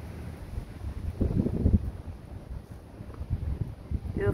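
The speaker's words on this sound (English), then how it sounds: "it's really windy" Strong wind buffets the microphone outdoors in uneven low gusts that swell and ease over a few seconds, with no voices.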